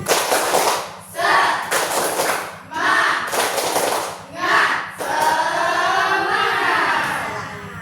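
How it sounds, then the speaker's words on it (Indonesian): A group repeats the 'tepuk semangat' spirit clap, with loud patterned bursts of unison clapping over a low steady hum, voices chanting between the bursts and a sustained shout closing it. "Oke, sekali lagi tepuk semangat."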